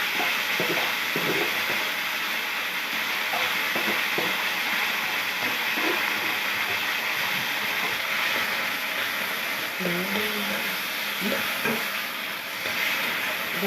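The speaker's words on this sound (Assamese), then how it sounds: "এতিয়া লৰাই দিছিলোঁ।" Boiled taro and chickpeas stirred in a cooking pan, with soft scraping and clinks from the spoon over a continuous low sizzle.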